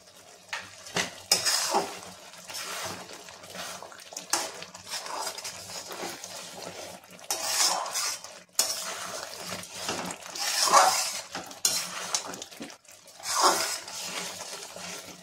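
Egg tadka being stirred in a pan, a spoon scraping and clinking against the metal in irregular bursts with a faint sizzle beneath, close and moderately loud, no voices.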